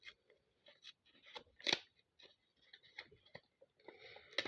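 Several quick crisp snips and crinkly rustles of scissors cutting through a plastic packet, close up, with short pauses between cuts and no talking.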